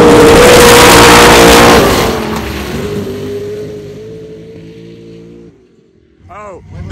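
A twin-turbo LS V8 sand buggy with over 1,000 horsepower roars loud and close in a dune drag race, then fades as it pulls away; talk follows at the end.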